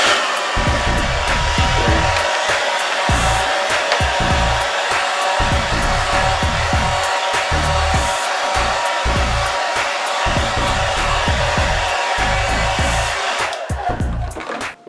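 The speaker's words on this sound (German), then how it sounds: "Ich mache es nur mit dem normalen Föhn, ohne Heißluftföhn." Steady, loud rush of an ordinary hair dryer on a cool setting, blowing over an acrylic pour painting, running continuously for nearly fifteen seconds with a few low knocks and bumps underneath before it cuts off at the end.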